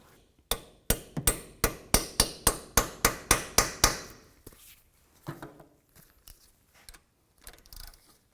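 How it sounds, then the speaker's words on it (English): About a dozen sharp metallic hammer strikes in a quick, even rhythm, close by, driving in a rusty bolt at a BMW X3 rear speed sensor, followed by a few softer scattered knocks. "you might have to hammer it in a little"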